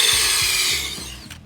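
A countersink bit grinds into a hole in hard maple during a wine rack build, giving a loud, close rasping whir with rhythmic low chatter pulses that fades near the end as the bit eases off.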